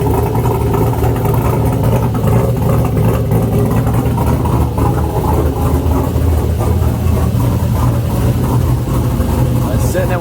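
An LS V8 swapped into a Mazda Miata idles with a choppy aftermarket cam, a loud, close, lumpy rumble that lopes unevenly and continuously throughout.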